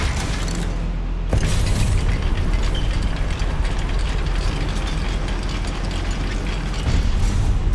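A Confringo blasting curse detonating inside a goblin mine in Hogwarts Legacy, a sharp loud burst followed by dense, sustained crackling and rumbling debris noise that stays loud throughout.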